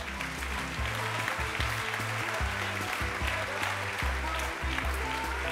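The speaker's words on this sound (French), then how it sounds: "Et cette foule jalouse vous applaudit aussi." Audience applause at the Citeo Circular Challenge event, steady, dense clapping held throughout over a low musical backing.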